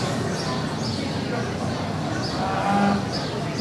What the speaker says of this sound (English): First in the ring will be Zayla Dahlstrom with her first calf cow calf pair